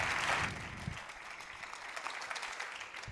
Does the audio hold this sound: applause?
yes